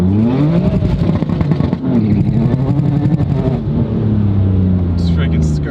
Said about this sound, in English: when I launch it or when I rev it really high RPMs, the valves open up from the pressure